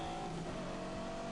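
A Bentley Continental GT with 626 horsepower is driven in a racing video game based on The Grand Tour. Its engine gives a steady, smooth, low drone, fairly quiet and without talk.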